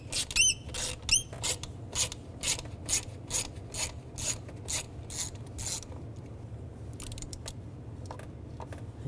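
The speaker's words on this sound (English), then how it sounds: "So I need to take the screws out for the fuel rail. Use a T20 socket, and there's 2 screws" A ratchet with a T20 socket turns out the fuel rail screws on a 2006-10 Volkswagen Jetta, giving a close run of about a dozen rhythmic clicking strokes that fade to quieter fiddling.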